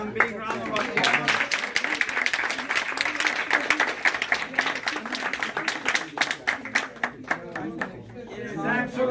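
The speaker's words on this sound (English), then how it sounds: "Okay, one big round of applause." Audience round of applause at a talk on diabetes and cancer research, a moderately near burst of clapping that thins into scattered individual claps toward the end.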